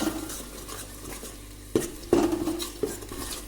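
Garlic-ginger paste and coriander stirred into hot oil for a fish sambar, a spoon scraping and clinking against the pan in a few brisk strokes over a faint sizzle, close by with no talking.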